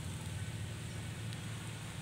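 Rain falling outdoors produces a steady, dense hiss with no breaks and no voices.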